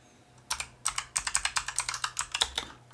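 Close, crisp keystrokes on a computer keyboard while a VTP password is entered on a Cisco switch: about fifteen quick, slightly uneven clicks in a rapid burst, with no talking.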